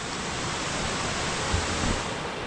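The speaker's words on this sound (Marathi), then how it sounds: "पाण्याचा प्रवाह भरपूर आहे" Strong rush of water flowing through a leaking village dam at Velas, a loud steady broadband roar close by with no pauses.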